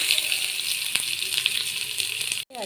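Onion and cumin seeds sizzle steadily in hot oil in a pan, a continuous close hiss with small crackles and pops, followed by a brief dip near the end.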